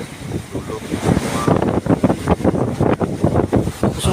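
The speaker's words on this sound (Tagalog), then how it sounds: "Hanging amihan." Strong northeast monsoon wind at sea buffets an open microphone on a small fishing boat, a rough continuous roar with choppy gusts and splashing water.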